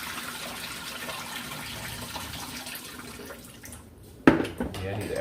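Turkey wings are rinsed under a running tap, a steady close hiss of flowing water that drops briefly before a sharp splash and a gush of water near the end.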